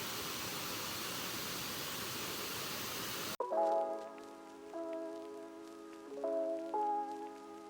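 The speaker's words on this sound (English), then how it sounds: "It's raining now." Rain falls near Kuang Si Waterfalls in Luang Prabang, Laos, a dense, even hiss for about three seconds that cuts off abruptly into steady sustained tones.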